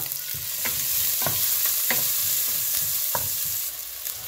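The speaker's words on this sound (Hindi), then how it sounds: "तेल के अंदर हम जो है अदरक लहसुन की पेस्ट के साथ हम प्याज को इसमें शामिल करेंगे और इसे थोड़ा सा सोता करेंगे।" Onions with ginger-garlic paste sauté in hot oil while being stirred, a steady close sizzle broken by a series of scraping stir strokes, the frying kept up evenly throughout.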